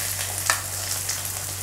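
Onion frying in hot oil in a kadai, a short steady close sizzle with a brief clink near the start.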